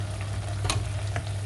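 Tofu sambal with soy sauce sautéing in a pan, a low steady sizzle with a low hum beneath and a few brief scrapes of stirring, close and fairly quiet with no talk.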